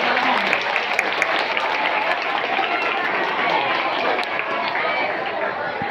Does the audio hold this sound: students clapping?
yes